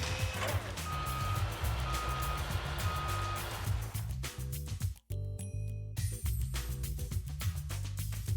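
A forklift in Shenmue 3 sounds its reversing alarm, a loud, regular stream of beeps over a low engine rumble, with a brief cut in the middle and no talking.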